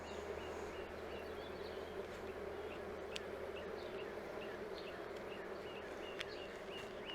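Honeybees hum in a steady, low insect drone throughout an early-season hive inspection, with a few faint bird chirps above the even buzz.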